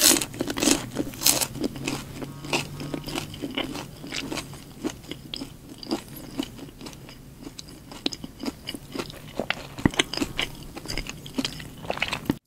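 Crunchy bites and wet chewing of spicy chicken nuggets, McDonald's-style, seasoned with herbs and chili flakes, recorded up close with steady repeated crunches and mouth sounds and no talking.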